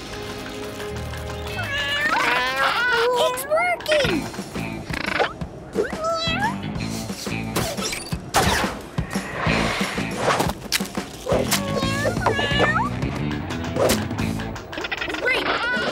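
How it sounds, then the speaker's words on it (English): Animated cartoon cats in a PAW Patrol episode meow repeatedly in a busy mix, their cries overlapping with character voices and crashing effects. "fish-loving kitties"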